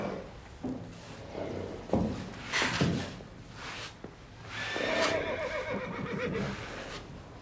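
An animated horse whinnies in a cartoon riding-school scene, giving a few separate neighs with a long, shaky call near the end, with faint hoof and movement sounds between them.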